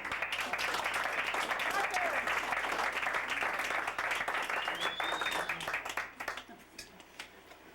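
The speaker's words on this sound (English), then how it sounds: "Big round of applause for Marv." A round of applause at a 60th birthday party, many hands clapping steadily and fairly close for about six seconds before thinning out and fading to scattered claps.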